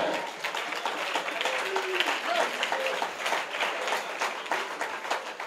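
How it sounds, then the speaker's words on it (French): A church congregation applauds, a dense, continuous clatter of many hands clapping at moderate loudness, with faint voices mixed in. "au lieu d'applaudir comme vous avez applaudi là"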